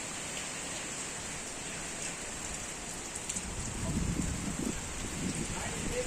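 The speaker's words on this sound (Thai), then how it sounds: "ตกแล้วฝนตกแล้ว" Steady rain hisses down continuously on a house in windy weather, growing a little heavier with a low rumbling patter toward the end.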